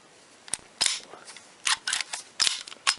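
Metallic clicks and clacks from an IMI Jericho 941F pistol, an Israeli police trade-in, as the slide is racked to check the chamber; several sharp, close mechanical snaps in an irregular sequence, with no talking.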